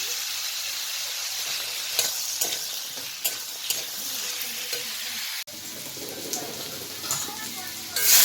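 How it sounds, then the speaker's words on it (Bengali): Pumpkin pieces fry in oil with salt and turmeric, giving a steady close sizzle broken by clattering stir strokes, with a voice faintly present at times. "মিষ্টি কুমড়ো যে নুন আর হলুদ দিয়ে ভাজি নিই"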